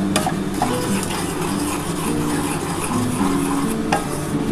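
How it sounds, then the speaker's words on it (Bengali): Semolina is lightly dry-roasted in a pan, giving a continuous, even rustle of stirring with a few sharper scrapes against the metal, and no talking. "আমি এই সুজিটাকে হালকা করে একটু ভেজে নেব"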